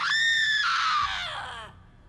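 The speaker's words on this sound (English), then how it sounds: "Would you mind screaming into this cursed recorder?" A single shrill, drawn-out scream into a cursed recorder in the game Borderlands 3, loud and close, sliding downward in pitch before breaking off into a short fading tail.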